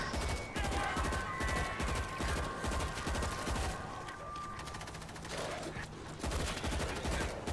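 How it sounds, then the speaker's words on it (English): Grenade launcher fire in the zombie shooter World War Z, heard as repeated heavy thumping shots and bursts amid constant gunfire and chaotic game noise, steady and loud throughout. "I'm shooting grenade launcher"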